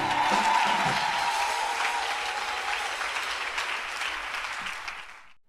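A church congregation applauds and cheers at a day-one convention, with dense clapping and a brief high cry early on that fades out toward the end.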